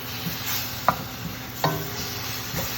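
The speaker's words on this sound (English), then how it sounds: "I'm going to saute my spinach in here." Spinach sautéing in a pan for spinach penne, a soft continuous sizzle broken by a few sharp utensil clicks and scrapes against the pan, close and fairly quiet, with no talking.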